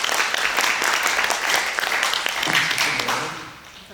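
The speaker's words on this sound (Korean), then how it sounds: "나는 이렇게 얘기한 목사님들이 박수 한번 칠 줄 알았더니" Pastors in a congregation at a prayer meeting break into brisk, scattered applause that builds, then thins and fades toward the end.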